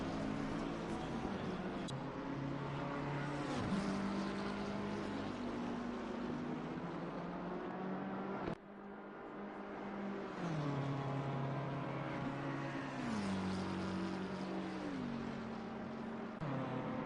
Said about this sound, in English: 99 McLaren being chased by the 128 Bentley.